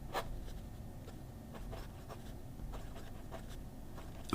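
Scratching strokes from an Aurora flex nib fountain pen writing on paper, a faint, close, irregular run of short rubbing sounds with no talk.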